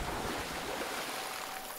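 Water in the video game Shadow of the Tomb Raider, a steady broadband rush and wash of waves, constant and fairly quiet, with no voices.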